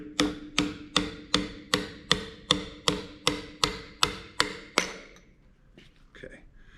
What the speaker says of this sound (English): Grab your hammer and tap on that input shaft.